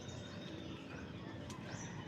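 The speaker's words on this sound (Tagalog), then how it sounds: "Ang ganda ng huni ng ibon." Birds sing faintly outdoors in a garden on a sunny morning, with soft chirps and a coo-like call over quiet background hiss.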